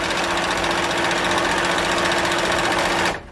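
A sewing machine straight-stitches and gathers sheer fabric with a steady, loud mechanical whir that runs continuously for about three seconds, then stops abruptly.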